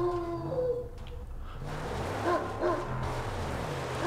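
A dog riding on the back of a buggy in the Mad Max video game gives short barks and whining yips over a low vehicle rumble, fairly near and moderately loud, with no talking.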